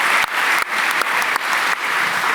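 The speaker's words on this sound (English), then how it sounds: "I would recommend a round of applause for the Checkmk staff for having put this thing on." Conference audience applauding warmly, a full, steady wave of clapping from a large room with a few brief dips, no voices on top.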